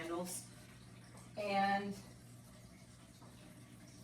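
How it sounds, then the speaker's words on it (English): One cup of water poured into the bottom of an Instant Pot over a trivet, a brief splashing pour in the middle of the clip, with a voice speaking briefly before it. "I'm going to add 1 cup of water to the bottom of my pot."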